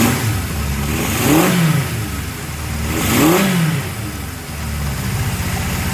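A Honda CB750F Super Sport motorcycle engine runs steadily at close range, swelling twice in brief throttle blips before settling back to a smooth, even idle.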